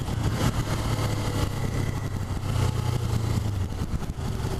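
A Suzuki GSX250R motorcycle engine drones steadily under way, a loud, constant mid-pitched hum with wind rush, heard up close while riding.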